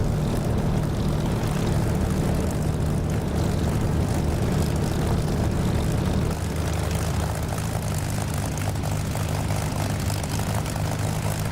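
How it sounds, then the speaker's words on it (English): A Spitfire engine in the DCS flight simulator runs with a loud, steady propeller drone and a rumbling low throb that holds without pause throughout, with no voices. "This sound that we're getting from the Spitfire"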